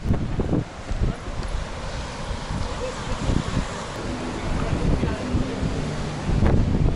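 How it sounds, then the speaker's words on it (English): Ocean waves pounding a beach beside a small putting green, a continuous surf roar heavy with wind buffeting the microphone, with brief low swells rising and falling throughout. "You got pounding waves over here."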